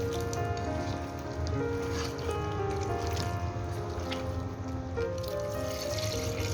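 Water is poured onto mutton in a cooking pot while making yakhni for mutton biryani, giving a steady trickling, splashing pour that lasts several seconds without speech.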